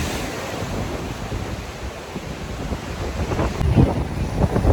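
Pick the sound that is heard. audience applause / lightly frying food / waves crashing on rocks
waves crashing on rocks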